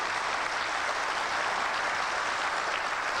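Dense audience applause at an evening lecture, a continuous wash of many hands clapping at an even, steady level throughout, with no talking over it.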